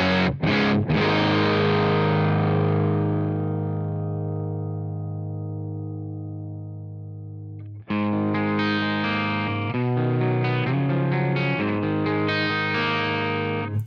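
Distorted electric guitar through a pushed Mesa Boogie Triple Rectifier amp model in AmpliTube 5: a heavy sustained chord rings and slowly fades, then a dense, loud riff of chugging chords and notes follows.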